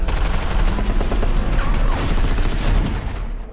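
A dense burst of rapid gunfire from a shootout in a movie trailer, with overlapping shots and a heavy low rumble that sustain loudly before cutting off abruptly.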